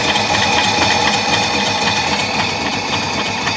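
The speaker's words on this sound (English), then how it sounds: "Watch how low the RPM can go before it actually dies." Car engine idling at very low RPM, around 450, on an older car with fuel leaks: a loud, close, steady mechanical chatter with a fast even rhythm, no talking.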